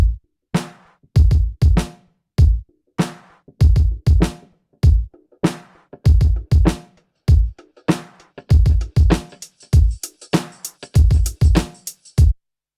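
A punchy drum loop repeats steadily, its tone opening up from dull and muffled to brighter as a filter sweeps upward.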